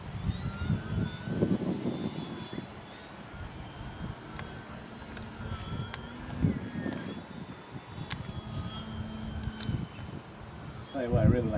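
An E-flite PT-17 model biplane flies in windy conditions, its motor drone rising and fading as it passes, carried along under wind noise and intermittent voices talking.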